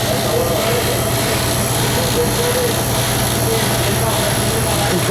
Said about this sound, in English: Compressor's on.